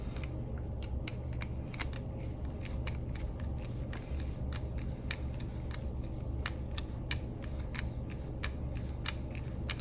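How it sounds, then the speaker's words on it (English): Screws are tightened back down on a lightsaber hilt, a rapid series of small metallic clicks and ticks close to the mic over a low steady background hum, with no talking. "I'm going to tighten these back down."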